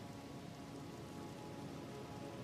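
Steady rainfall in a video game, a constant soft hiss of rain on surfaces with no breaks, faint and even throughout, with no voices.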